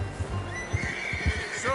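In Red Dead Redemption 2, a horse neighs and whinnies over soft clip-clopping hooves while a voice talks, with an extra rising whinny near the end.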